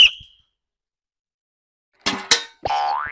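Whistle blown to start a children's football game: a brief sharp blast, a silent pause, a few knocks, then a longer whistle tone that bends upward in pitch.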